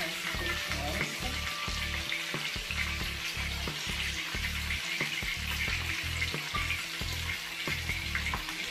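Beef skewers frying in a pan, a steady close sizzle with rhythmic stirring or turning clatter running throughout, no speech.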